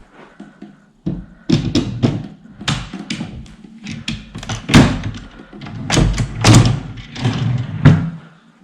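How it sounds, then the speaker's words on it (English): An IKEA Malm two-drawer chest having its drawers tilted and pushed into the frame: a close series of hollow wooden thunks, bumps and short sliding scrapes, irregular and fairly loud. "The drawers, you simply tilt it at this angle, and tip them, and then put them in."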